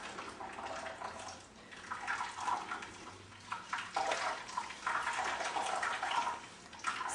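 Wet sesame seed pulp being squeezed by hand to press out milk, with splashing, dripping liquid in uneven bursts, close and fairly quiet, no talk.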